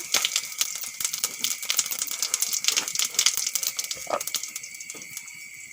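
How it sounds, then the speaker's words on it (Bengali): Cumin seeds and bay leaves crackling in hot oil in a kadai, a dense continuous sizzle and spatter close by with scattered sharp pops. "তেল গরম হয়ে গেছে তেলের উপর দিয়ে দেব জিরে আর তেজপাতা"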